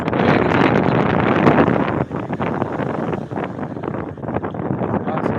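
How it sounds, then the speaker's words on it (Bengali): Strong gusty seaside wind at Digha roars continuously and loudly across the microphone, with surging buffets and no pauses. "একেবারে ঝড়ো হাওয়া বইছে প্রবল গতিবেগে ঝড়ো হাওয়া"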